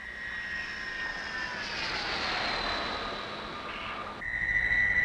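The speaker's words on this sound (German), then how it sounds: "Der Gewinner streicht im Tiefflug über den Verlierer hinweg." A Breguet Atlantic maritime patrol aircraft makes a low-level flyover, its steady turboprop drone swelling and shifting in pitch as it passes, then a louder, rougher engine roar at the end.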